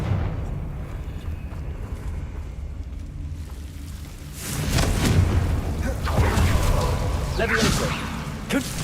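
A fiery Confringo blasting spell in Hogwarts Legacy on PC goes off with a deep booming eruption midway. Rumbling, crackling debris follows over a steady game background.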